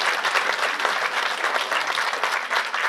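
Sustained applause from the audience at a Christmas carol and pastoral concert featuring a large children's and youth choir, dense steady clapping filling the hall with no voices over it.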